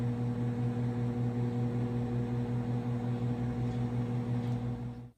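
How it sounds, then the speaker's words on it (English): A microwave oven runs with a constant low electrical hum and a faint fan whir, steady throughout, close by. "If you guessed a microwave"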